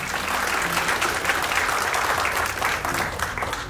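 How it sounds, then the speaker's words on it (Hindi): An audience at a Laila Majnu fan meet bursts into loud, sustained applause, many hands clapping together in a dense, steady wash of sound. "एक बारी जोर से ताली बजाएंगे यार"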